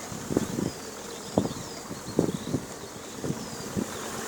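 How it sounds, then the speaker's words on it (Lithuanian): Faint buzzing of a few bees over a buckwheat field, with soft intermittent hums rising and fading against steady wind noise outdoors. "Bičių kol kas nemačiau, vieną kitą kažkur girdėt"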